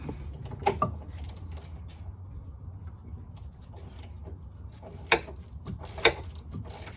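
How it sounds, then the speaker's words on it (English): Thin flathead hand ratchet clicking as it turns a tight, rusted front strut bolt on a 2010 GMC Acadia, faint irregular ticks and a few sharper metallic clicks over a low background hum. "I'm gonna try this real thin flathead ratchet."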